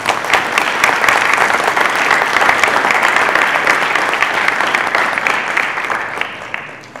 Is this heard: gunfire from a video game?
no